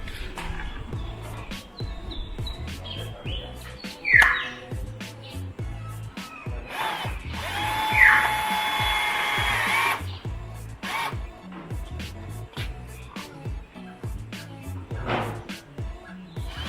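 A power drill or screwdriver drives polished screws back into a wall while a house number plate is refitted, with steady whirring bursts and a couple of louder surges. Faint bird chirps sound in the background.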